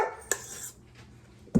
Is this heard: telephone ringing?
no